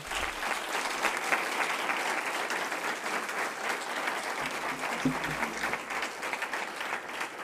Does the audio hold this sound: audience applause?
yes